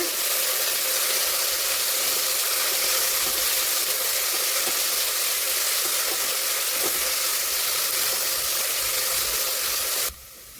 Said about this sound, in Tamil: வெங்காயம் போட்டதுக்கப்புறம் வெங்காயம் நல்லா பொன்னிறம் வர அளவுக்கு நல்லா வணக்கி எடுத்துக்கோங்க